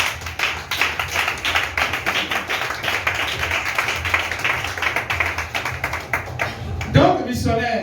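A church congregation claps in a steady, fast rhythm, many hands close and loud throughout, with a voice rising briefly near the end.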